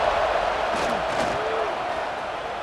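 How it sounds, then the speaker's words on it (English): Stadium crowd roar in a USC vs Notre Dame college football video game simulation, a steady loud wash of cheering and noise during a red zone stand with a few brief whistling rises. "here comes the noise. This crowd's trying to inspire this defense to make a big red zone stop"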